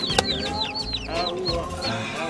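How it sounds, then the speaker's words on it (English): Chickens cluck and chirp in a farmyard, a busy overlapping stream of short calls at moderate distance, with one sharp louder squawk near the start. "Wait, there's some chicken in there."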